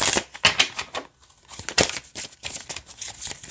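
A dark-themed tarot card deck is shuffled by hand in quick, crisp riffling bursts of papery clicks and flutters. A short pause comes midway before the shuffling resumes.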